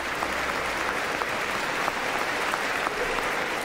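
Applause for President Yoon Suk-yeol's address to a joint session of the US Congress fills a large chamber: a steady, dense roar of many hands clapping, heard from a distance, with no break.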